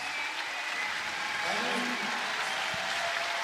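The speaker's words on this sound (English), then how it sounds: "Mika gets a big cheer as he leaves on the left of the arena." An arena crowd at a Laval 2023 bouldering semi-final cheers and applauds steadily for a departing climber, a broad wash of sound held at an even level beneath a commentator's voice.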